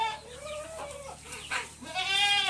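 Kattu seval fighting rooster chicks and chickens in a pet room give loud, close calls, with long rising and falling cries building at the end, no talk.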